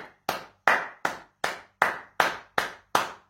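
Audience clapping in unison at a concert honouring a singer, nine sharp, evenly spaced claps in a steady rhythm, close and fairly loud with no talk.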